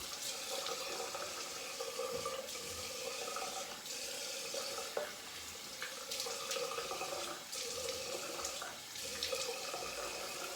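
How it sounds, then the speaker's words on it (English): Tap water runs steadily into a sink while a vintage Wade & Butcher extra hollow straight razor is rinsed, a continuous close splashing hiss with small shifts as the blade moves through the stream, no talk. "Rinse time."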